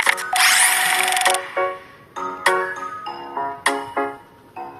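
Trading card packs being opened in the Roblox game TCG Card Shop Simulator: loud, bright chiming game effects that come in bursts, one long shimmering swell followed by shorter tonal pings, with no talking.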